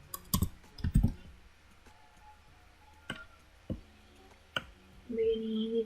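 Computer keyboard clicks sound as Ctrl X is pressed, with a few sharp key taps and clicks spread out, close and fairly quiet, and a short tonal hum near the end.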